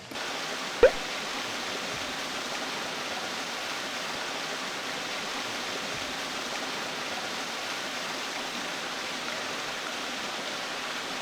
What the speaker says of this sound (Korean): 폭포는 굉장히 멋있습니다